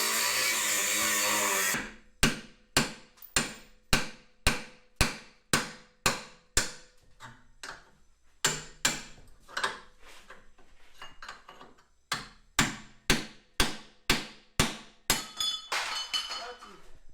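Repeated heavy hammer strikes ring out in a steady rhythm, close and loud, with a few short pauses between bursts of blows.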